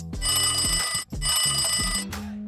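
A telephone rings on an open call-in line for drill bit advice, two long ringing bursts with a short break between, loud and close, no talk over it.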